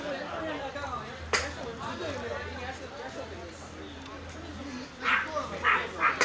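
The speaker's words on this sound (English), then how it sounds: "the dog is quite vicious, huh?" A dog barks at a hotpot dinner, sharp yaps mostly toward the end, under steady chatter and people talking close by.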